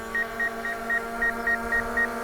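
A DJI Mavic Air 2 drone's obstacle sensors beep in a steady series of short, even tones about every quarter second, over a constant mechanical hum, with no voices.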